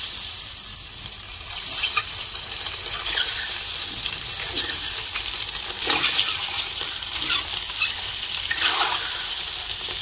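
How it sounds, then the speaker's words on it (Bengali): Eggs frying in a pan, seasoned with turmeric, chili and salt, give off a steady loud sizzle and crackle that runs throughout without any talking. "তো প্রথমে ডিমগুলো ভেজে নেব।"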